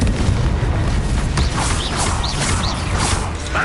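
Confringo blasting spell in the Hogwarts Legacy video game, with loud booming bursts and mechanical creaking under a dense, continuous roar of combat effects.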